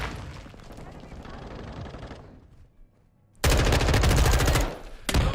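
In Modern Warfare 2, a decoy grenade sends out fake gunfire, loud sustained automatic bursts that break off abruptly and restart after a quieter stretch of game noise.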